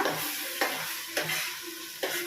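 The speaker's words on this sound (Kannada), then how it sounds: "ಮಸಾಲೆನ ಹಾಕ್ಕೊಂಡು ಚೆನ್ನಾಗಿ ಮಿಕ್ಸ್ ಮಾಡ್ಕೊಂಡಿರೋಣ" Masala frying in coconut oil being stirred in a pan, with regular spatula scrapes about every half second over a steady, close sizzle.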